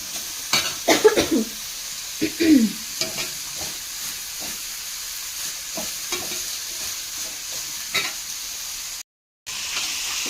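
Onions sautéing in a pan for chicken chukka, a steady close sizzle broken by several scraping stirs of a spoon against the pan, with a brief dropout near the end.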